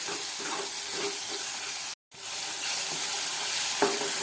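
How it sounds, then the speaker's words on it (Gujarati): Salted tomatoes sautéing in a hot pan for Gujarati kadhi, a close continuous sizzle with spatula stirring scrapes, broken by a brief silent gap midway, no voices. "ટમેટાને આપણે થોડી વાર માટે સાતળી લેશું"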